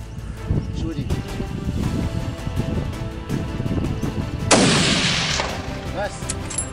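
A single sharp 7mm Remington Magnum rifle shot out on open African plains, loud and close with a lingering rolling tail, coming after steady wind-like background noise and low voices.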